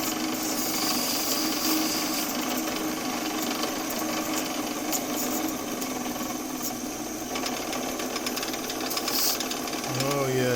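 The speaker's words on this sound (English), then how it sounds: "I get a lot more noise out of the lathe when it's running at its slowest speed." Woodturning lathe spinning an acorn at its slowest speed, a continuous rattling, clattering mechanical hum up close with a voice talking over it.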